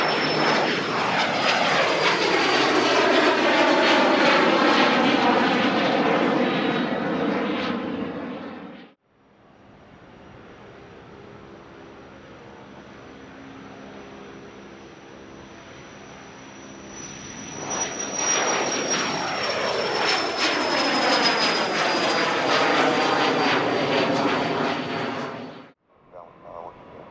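Private jets taking off and landing at John Wayne Airport, loud rising engine roar close by, a quieter stretch of distant turbine whine in the middle, then another loud jet passing before cutting off.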